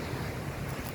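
Wind blows strongly outdoors, a constant broadband rush buffeting the microphone with no pauses, and no talking over it.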